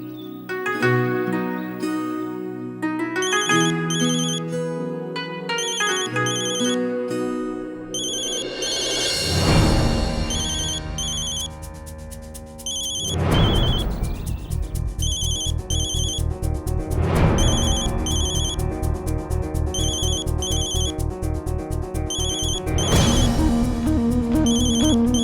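A telephone ringtone plays while a call is placed, a loud melodic electronic tune with repeating beeping patterns and periodic swells, running continuously for about twenty-five seconds with no talk.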